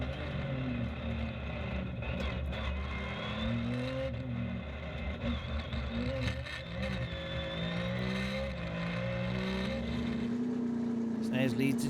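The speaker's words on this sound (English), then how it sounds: "here is part of that gravel stage with Patrick Snares in the Porsche" A Porsche GT rally car on a gravel stage of a Belgian rally, engine note rising and falling through gear changes as it accelerates, heard at moderate distance beneath a commentator's voice.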